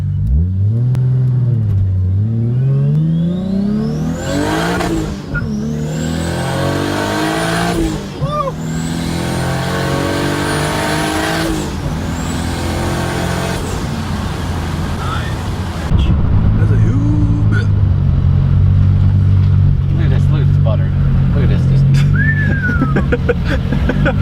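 A Toyota Supra's engine revs and climbs through gears while driving, with rising whine sweeps repeating several times before settling into a steadier, louder drone; people talk over it inside the car.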